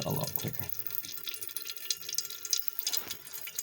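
Coolant drains from a Kawasaki ZX10 motorcycle in a quiet, steady trickle with faint splashing drips, soft and close, with no talk.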